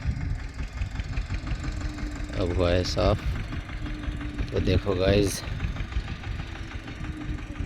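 A tractor engine runs with a steady low idling rumble and knock, while someone talks over it in two short bursts.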